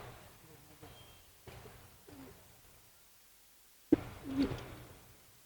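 Racing homer pigeons coo softly in a loft, giving low, repeated cooing calls at a moderate distance. The calls are fairly faint, and people talk nearby.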